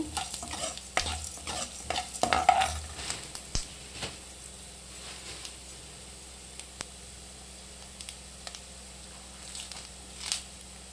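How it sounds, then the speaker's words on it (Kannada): Coriander seeds roast in a pan while being stirred, with scattered scraping strokes and light rattling over a soft sizzle, busier at first then thinning out. "ಹುರ್ಕೋಬೇಕು ಧನಿಯಾ ಹಿಂಗೆ"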